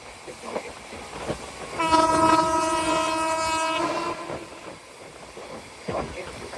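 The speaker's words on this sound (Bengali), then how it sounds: "ট্রেনটির গতি কমানো হচ্ছে" The Rupashi Bangla Express rumbles along with faint clacking, slowing near Mawa, and its horn blares for about two seconds amid the rolling noise.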